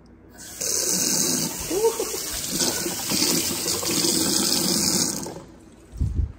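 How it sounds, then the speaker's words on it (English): Water runs steadily from a newly connected kitchen tap in a self-built house, a loud continuous rush that lasts several seconds before stopping, followed by a short knock or clunk. "we just got water"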